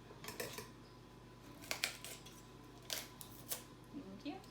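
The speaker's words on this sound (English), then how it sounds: "the easiest way to cut off all of the cauliflower florets, which are just the individual pieces of cauliflower, is just with a kitchen scissors" Several sharp snipping cuts of kitchen scissors cutting cauliflower florets sound at irregular intervals, crisp and close, with faint rustling between them and no talking.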